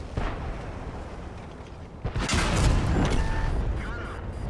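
In World of Tanks, a T-44-100 fight carries booming tank cannon fire: a heavy shot rings out around the two-second mark over a continuous rumbling battle bed.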